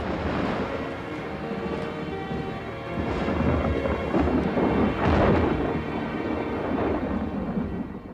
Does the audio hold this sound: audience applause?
no